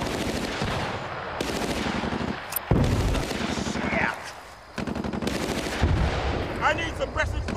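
Battlefield: Bad Company firefight, with dense machine-gun bursts close and loud, broken by brief pauses and a booming hit, as shouted voices cut in over the shooting.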